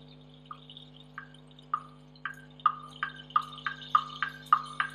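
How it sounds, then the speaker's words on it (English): Recorded rain drips play back as a sequence of bright, evenly spaced plinks that grow louder and more frequent, about a dozen in all, over a low steady hum. "I think this is rain"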